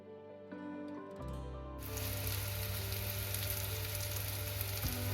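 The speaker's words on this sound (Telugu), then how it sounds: "సో రెండో వైపు కూడా క్రిస్పీగా ఫ్రై అయ్యేలా వేయించుకోవాలి." Stuffed bitter gourd frying in oil in a pan, a steady loud sizzle that swells after a short stretch of clattering and stays constant to the end.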